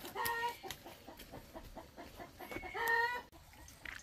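Farmyard chickens cluck in short repeated bursts, with louder crowing-like calls near the start and again toward the end, fairly close and with no voices.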